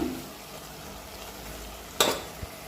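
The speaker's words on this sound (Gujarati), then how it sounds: "હવે થોડીક વાર કોબીજને આપણે તેલમાં ચડવા દઈશું" Cabbage and tomatoes cook in oil with a low, steady sizzle, then a sudden louder burst of sizzling near the end, followed by a single soft knock.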